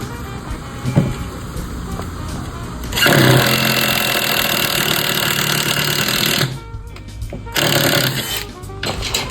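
A power drill bores holes for seat bolts in a car being fitted with Bride seats, whining loudly and steadily for several seconds, then stopping and starting again in shorter bursts.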